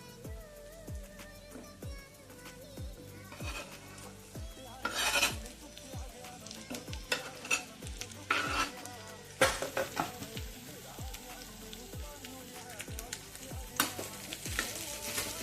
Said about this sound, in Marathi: आता आपण भेंडी टाकणार आहोत।